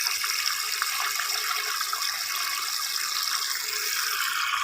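A DC water pump, just repaired, drives a strong stream out of a tap. The even rushing splash stays loud and unbroken throughout, with nobody speaking.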